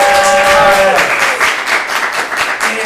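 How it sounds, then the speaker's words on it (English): A reunion audience in Austin, Texas gives the cast a round of applause, loud close clapping that fades after a couple of seconds as cheers and voices carry through. "I want to give everybody a round of applause"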